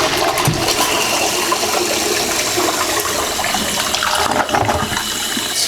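A toilet flushes loudly right after a Fluidmaster fill valve repair, a strong rushing swirl of water lasting throughout and surging slightly near the end, with no talking.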